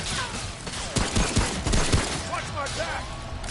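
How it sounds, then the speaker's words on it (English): Enemy gunfire in the video game Remnant: a burst of sharp gunshots crackling together, fairly close and loud over a busy game soundscape, with a few thudding impacts mixed in. "Are people shooting at us from the street?"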